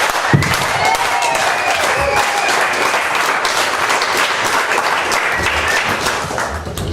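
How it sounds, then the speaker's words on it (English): A theatre audience applauds the men of Choke, loud sustained clapping and crowd noise filling the room throughout, with a few sharp claps and thumps near the start. "So we're going to do a slow clap if we're all into that."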